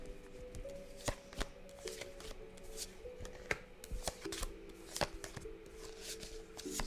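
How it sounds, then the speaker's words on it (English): Tarot deck being cut and shuffled, a soft papery riffle with repeated sharp card snaps and taps spread through the passage, quiet and close with no talking. "Okay, I just cut the deck,"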